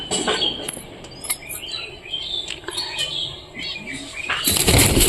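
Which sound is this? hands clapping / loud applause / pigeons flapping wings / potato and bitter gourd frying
pigeons flapping wings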